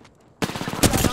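Rapid automatic gunfire from a weapon in the shooter game Apex Legends, a loud burst of repeated shots starting abruptly after a brief quiet moment and continuing steadily to the end.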